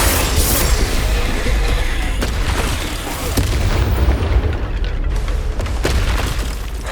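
In the Hogwarts Legacy video game, the Bombarda spell sets off a loud, dense blast that fills the whole stretch with rumbling boom, crackling debris and combat noise.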